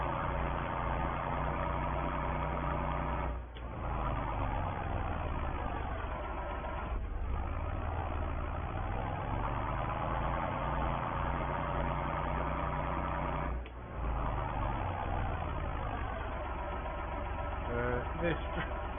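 A 135-horsepower farm tractor engine runs steadily at idle for the whole stretch, a close, loud, continuous low rumble with only a few brief dips.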